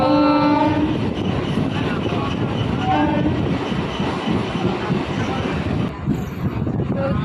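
Train noise fills the clip as it slows into Chakdah station: a steady loud rumble with clanking wheels and a short horn-like tone near the start, with voices faint underneath.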